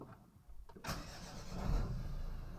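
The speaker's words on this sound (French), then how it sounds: "On va démarrer le moteur." A Volvo or Ford car with a Powershift MPS6 6DCT450 automatic gearbox and 17-degree oil has its engine started nearby: a quiet moment, a brief crank, then the engine catches and settles into a rising, steady idle.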